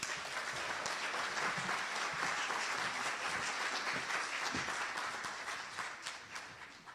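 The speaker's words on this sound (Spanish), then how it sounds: "Lo recibimos con un aplauso." Audience at an education seminar applauds to welcome a speaker, a steady dense round of clapping that holds throughout and thins slightly toward the end.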